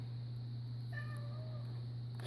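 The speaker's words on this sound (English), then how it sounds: "That's a pathetic cat right there." A single faint, drawn-out cat meow rises over a steady low electrical hum in a quiet room.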